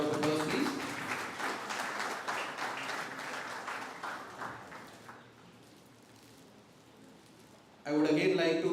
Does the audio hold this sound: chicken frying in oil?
no